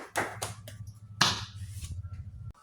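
A classroom during a lesson on the Dhuha prayer gives a brief, scattered round of applause: a few sharp hand claps in separate bursts over a low steady hum, fairly close and not sustained.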